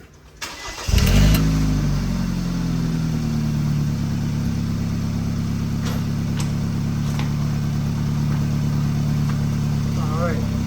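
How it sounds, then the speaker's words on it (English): A BMW 328i engine cranks and fires about a second in, then settles into a steady, loud idle that runs close by to the end, with a few faint clicks over the running engine. "I'm gonna go ahead and start the car"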